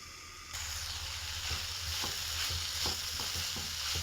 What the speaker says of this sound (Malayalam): നമുക്കിത് തുറന്നിട്ടൊന്ന് ഇളക്കി നോക്കാം